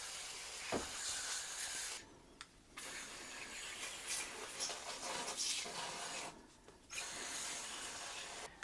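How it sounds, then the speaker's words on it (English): Foaming cleaner sprays onto an air conditioner coil in quiet, hissing bursts separated by brief pauses, close to the microphone and fairly faint. "I'm just gonna spray the whole thing and do even patterns throughout the whole coil"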